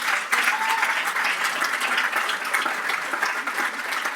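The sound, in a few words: applause for Amanda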